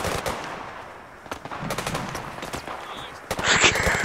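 A shotgun fired one-handed in the VR shooter game Zero Caliber: several sharp, loud blasts over a noisy background, with the last burst near the end.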